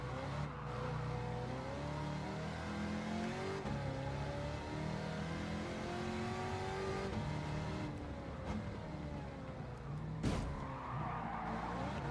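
A race car engine in Gran Turismo 7 drones and revs continuously, shifting pitch through gear changes, with tyre noise as it runs off onto dirt and grass, loud and steady throughout.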